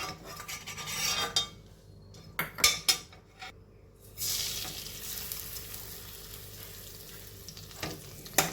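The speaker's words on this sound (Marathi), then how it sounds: "आणि याच्यामध्ये आता भगर छान परतून घ्यायची आहे." Barnyard millet (bhagar) dry-roasting in a pan for a fasting coconut rice dish, giving a continuous soft sizzle and rustle with intermittent scraping and stirring clatters of a spoon against the pan, close and moderate in level.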